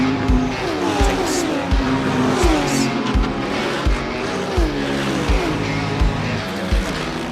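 Praga R1 race car in a sim racing game, engine note repeatedly rising through the revs and dropping at gear changes, with tire squeal, loud and continuous.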